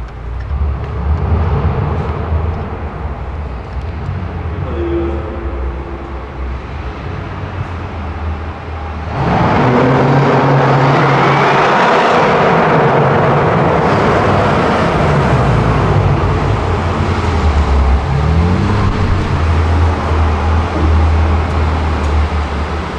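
A BMW M2 or M6 engine roars, quiet and distant at first, then abruptly much louder from midway as the car accelerates past, with a broad rushing drone that holds to the end.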